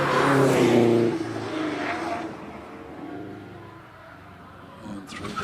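Hillclimb race car accelerating hard up the course at Harewood, loud and close at first, then fading into the distance as the engine note drops away, with a brief rise near the end.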